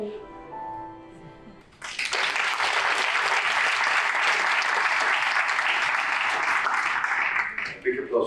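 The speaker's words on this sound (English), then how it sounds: "Big applause for UNICEF making such a beautiful and touching video." A conference audience bursts into loud, sustained applause after a short stretch of speech and music, with clapping holding steady for several seconds before tapering as a voice returns.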